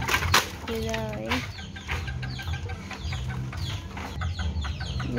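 Chickens cluck and chatter close by, with a rising squawk partway through and a person talking underneath.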